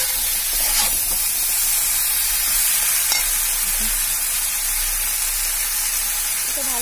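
A mustard and poppy seed paste being stirred as it fries in a pan for a Bengali ridge gourd and pointed gourd dish, giving a steady close sizzle and hiss that runs unbroken, with faint scraping of the stirring underneath.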